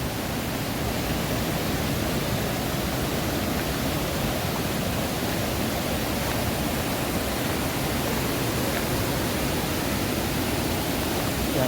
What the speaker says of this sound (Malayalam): അവിടെയാണ് വെള്ളം ഒഴുകി ഒഴുകി വരുന്നത്.